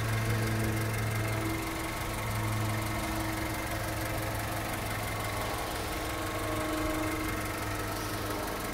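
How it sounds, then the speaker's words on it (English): A 1997 Honda Civic DX hatchback engine idles quietly and steadily with a low, even hum and no speech, holding a constant level throughout. "You can hear the engine, it's pretty quiet."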